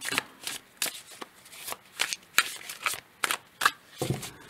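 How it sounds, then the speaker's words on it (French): Playing cards riffle and flick in quick, close rustling bursts as a deck is shuffled and a card is drawn, fairly quiet, with no talking. "On va tirer une seconde carte."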